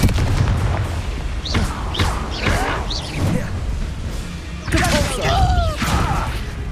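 Booming spell blasts and crashing impacts from a Hogwarts Legacy battle, several loud bursts in quick succession mixed with shouted voices and combat noise, the biggest blast landing near the end.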